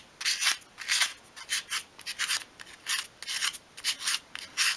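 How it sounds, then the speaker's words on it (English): Fine 500-grade sandpaper rubs a small piece of wood for a miniature coffee table in quick rhythmic back-and-forth strokes, close and crisp, with about a dozen swishes and no voices. "I'm just using a fine grade sandpaper here, a 500,"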